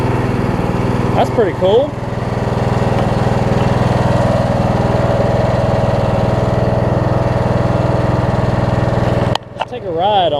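Snapper RER riding mower with a repaired cylinder head runs at a steady, loud idle close by, holding its drone for several seconds, while someone briefly speaks over it near the start and at the end.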